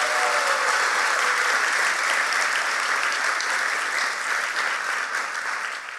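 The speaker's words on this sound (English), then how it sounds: "Please give them a big round of applause." Loud, sustained applause from an alumni awards celebration crowd honoring award recipients, dense and even throughout, easing slightly at the close.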